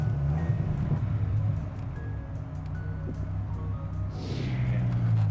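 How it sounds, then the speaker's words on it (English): Dodge Viper GTS Final Edition pulling away in gear, a low steady engine rumble close by with a swell in throttle near the end, faint rustling over it. "Let's go ahead and put the emergency brake down, put it in gear, and take it for a ride"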